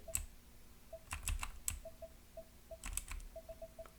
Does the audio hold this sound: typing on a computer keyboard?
yes